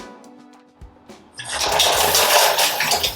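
Shower water pours over hair in a steady, loud broadband rush that begins abruptly after about a second of near quiet and then continues evenly to the end, with no talking.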